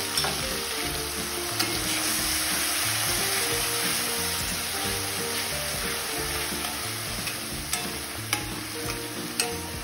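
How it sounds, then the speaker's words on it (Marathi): Ginger garlic paste and onion paste sizzling in hot oil for an Indian egg keema, a loud steady frying hiss with occasional pops and stirring clicks, heard alone without talk. "आता आपलं तेल गरम झालं आहे, त्याच्यामध्ये अद्रक लसूण पेस्ट टाकू।"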